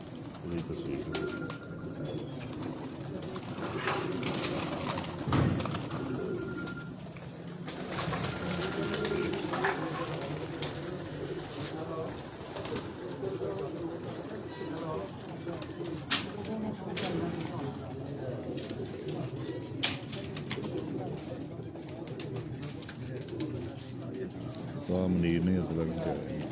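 Pigeons coo in a rooftop loft as a low, continuous murmur under frequent conversation between several men, with occasional clicks and handling knocks.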